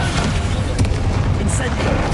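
A Bombarda blasting spell goes off in Hogwarts Legacy: a short, dense booming burst with rumbling low end and a brief bright flare, loud and close amid game sound.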